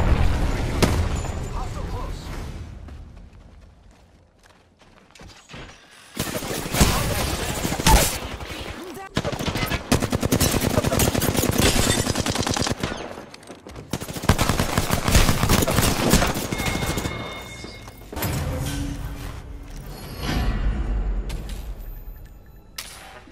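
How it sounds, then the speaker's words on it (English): Rapid bursts of automatic gunfire and heavy shooting from the Apex Legends battle royale video game, loud sustained volleys broken by brief lulls, with a voice speaking between them. "Shots fired at me."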